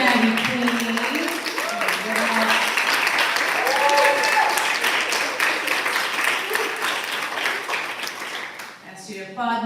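Sustained audience applause at a poetry reading event fills the room loudly and evenly, with scattered voices and whoops mixed in, fading slightly near the end as a voice begins speaking.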